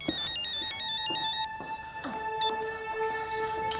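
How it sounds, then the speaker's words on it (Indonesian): A mobile phone ringtone plays a bright, repeating electronic melody of stepped tones, fairly clear and close, with a few soft background knocks. "Permisi ya, saya jawab telepon dulu."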